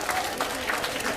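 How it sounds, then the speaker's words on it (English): Applause from an audience at a university entrepreneurs sharing session, a dense steady patter of many hands clapping with a few sharper claps standing out, fairly close and with no other sound over it. "a big round of applause for all of our speakers tonight"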